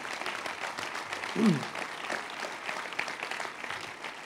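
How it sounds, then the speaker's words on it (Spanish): A crowd applauds steadily throughout at a workers' rally, a dense wash of clapping with a short cheer or shout rising briefly in the middle. "Un aplauso muy especial."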